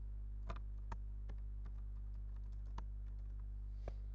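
Soft, irregular clicks of keys on a computer keyboard, a short burst of typing with a few louder taps, over a steady low electrical hum.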